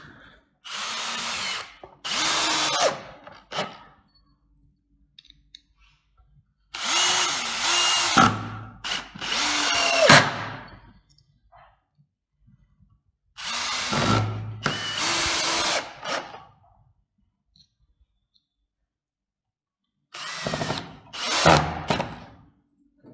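An Einhell TE-CD 18 Li BL brushless cordless drill drives screws into wood in four separate runs, each a loud whirring burst of a couple of seconds, separated by quiet pauses, with no talking.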